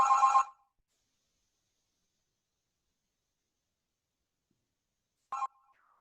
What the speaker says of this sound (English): the phone is ringing in my house